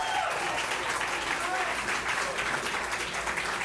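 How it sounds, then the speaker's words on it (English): Crowd applause fills a political primary-night event for Debbie Stabenow, a dense, steady wash of clapping that holds loud and unbroken throughout, with cheering voices mixed in. "Can we give one more round of applause to the amazing Debbie Stabenow?"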